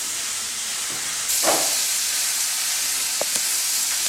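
Onions sizzle steadily in a pan with a pinch of salt, a broad continuous hiss that swells louder partway through, with a few faint clicks of a utensil and no voices.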